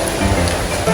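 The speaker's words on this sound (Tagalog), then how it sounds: "Lakas ng ulan." Heavy rain pours steadily on a shelter, a dense, loud and close hiss with no pauses.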